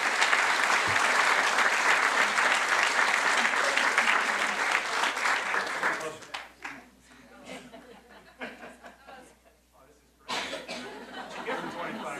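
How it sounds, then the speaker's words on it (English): A round of applause for 25-year honorees at a school board meeting, loud and sustained for about six seconds, then dying away into scattered coughs, murmurs and brief chuckles before rising again. "a round of applause for all of our 25-year honorees"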